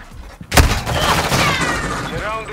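Gunfire in Call of Duty, with one sharp nearby blast followed by a rumbling wash of shots and echo, while a voice talks briefly over it.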